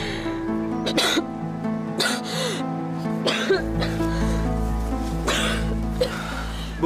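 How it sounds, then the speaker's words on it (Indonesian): A woman coughs and clears her throat in a few short, close bursts spread across the stretch, with breathy gasps between them. "saya perhatiin dari tadi ibu batuk-batuk terus deh"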